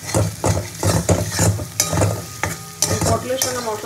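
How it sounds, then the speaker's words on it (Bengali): A spatula stirs pointed gourd and spices in a hot pan in steady, rhythmic scraping strokes, roughly three per second, over a bright sizzle, close and loud. "পটলের সঙ্গে মশলা দিয়ে আরও একবার ভালো করে কষিয়ে নেবো"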